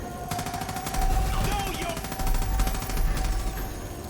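Light machine gun firing in Far Cry 5, rapid sustained bursts of automatic fire that stay dense and loud through the whole stretch, with a steady tone running beneath the shots.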